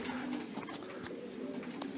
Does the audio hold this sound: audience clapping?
no